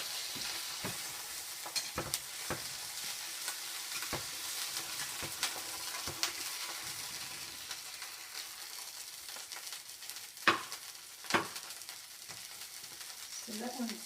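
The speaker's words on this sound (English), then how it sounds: "I should have made the fry pan a little hotter before I threw them in" Salmon fries in a hot fry pan, giving a faint, steady sizzle with occasional sharp taps and scrapes of a utensil against the pan.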